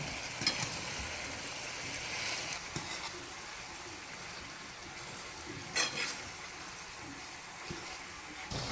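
Salted mackerel sizzles softly in a pan, with a steady low hiss and a few brief scrapes and clatters as the fish is added and stirred.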